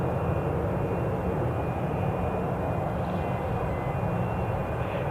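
Ryanair jet airliner bound for Tenerife at Newcastle International Airport, its engines giving a steady, broad rumbling roar heard from a distance, constant throughout with no voices.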